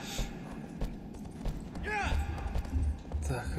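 Hooves of a horse gallop in the video game Shadow of the Colossus, giving a rhythmic, moderately loud clip-clop drumming that runs steadily throughout.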